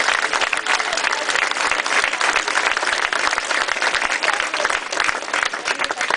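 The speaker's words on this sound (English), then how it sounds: "Give yourself a round of applause." A large crowd at an outdoor political barbecue applauds steadily, dense clapping throughout, loud and close, with no break.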